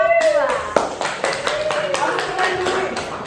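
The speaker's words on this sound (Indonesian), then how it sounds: "Kalau gitu kasih tepuk tangan dulu untuk kelompok 2." A classroom group gives a round of applause for a presenting team, with steady close clapping from many hands continuing for several seconds while a voice speaks over it.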